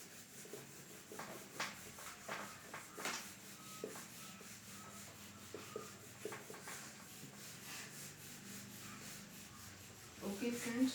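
Writing rubbed off a board with soft, repeated scrubbing and swishing strokes, quiet and close, in uneven bursts with a louder rustle at the end.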